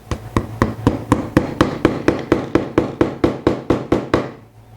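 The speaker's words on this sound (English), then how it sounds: "let's tap it into place" A plastic hinge pin for a concealed cabinet-door hinge is tapped into a freshly drilled, dust-cleared hole: about eighteen sharp, evenly spaced hammer knocks, close and steady, with nobody talking.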